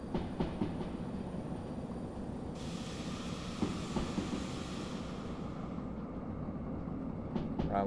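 A train rolls along the rails in Derail Valley, a continuous rumbling roll with faint rhythmic clicks and a hissing wash that rises midway and fades near the end, steady and fairly close with no voices.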